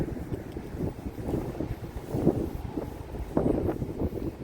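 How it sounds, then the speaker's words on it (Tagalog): Strong cold wind buffets the microphone in low, rumbling gusts that surge and fade, loudest in two bursts, in Canada. "Yan pakalamig ng hangin,"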